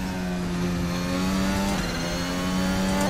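A 2022 Formula One car of near 1,000 horsepower, driven on cold tires, screams loudly and continuously, its engine pitch climbing through the revs with a brief dip at a gear change before rising again.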